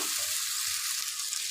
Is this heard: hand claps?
no